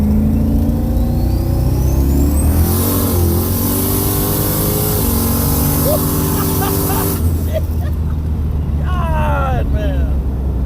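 Turbocharged 5.3 V8-swapped Firebird launching from a brake-boosted start in second gear, engine roaring and climbing in pitch with a turbo whine, then a sharp shift and wastegate chirps, loud and close from inside the car.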